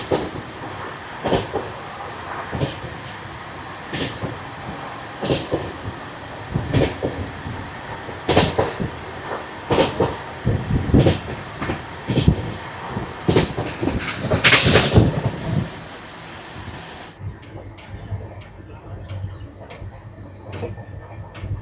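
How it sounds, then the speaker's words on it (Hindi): Ramnagar Dehradun Express rolling along with loud, regular rhythmic clacks and rattles from the carriages, the clatter continuing steadily before dropping to a quieter, sparser rumble as the train slows near the end. "अभी ट्रेन थोड़ी स्लो हो गई है"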